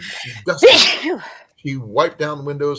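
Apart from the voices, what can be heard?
sneeze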